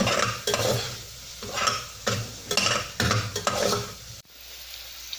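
Chicken browning in a hot pan sizzles loudly, while a utensil scrapes and stirs in repeated bursts about every half second. The stirring stops abruptly near the end, leaving the quieter frying alone.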